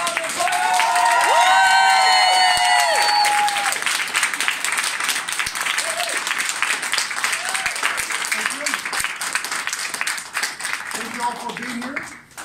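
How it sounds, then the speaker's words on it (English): Loud, sustained applause and cheering from a standing audience for a company CEO at a UK business launch event, with whoops and shouts over dense clapping that fades toward the end as a voice begins. "give a massive round of applause and cheer for CEO Arnold Boyle!"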